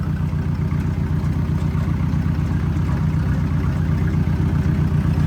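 A tractor engine idles at a steady pace, giving a continuous low, throbbing rumble that stays even and close throughout, with no voices over it.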